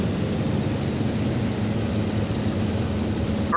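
Aircraft droning overhead in the Sudden Strike 4 Pacific naval battle at Leyte Gulf, a steady low engine hum with no breaks.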